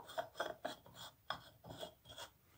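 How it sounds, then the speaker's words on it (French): Incandescent light bulb being screwed into a slightly dirty light fixture, giving a series of short, close, rasping scrapes in an uneven rhythm with no talking. "On va visser l'ampoule"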